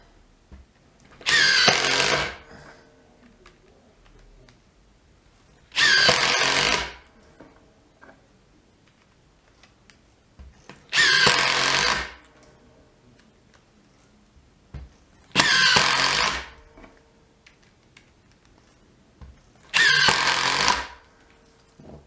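A Makita DT111D 12V cordless impact driver runs in five separate bursts of about a second and a half each, evenly spaced. Each is a loud, close, hammering buzz with quiet gaps between.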